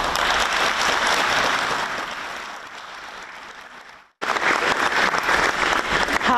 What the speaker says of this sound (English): As you would hear, ending on applause there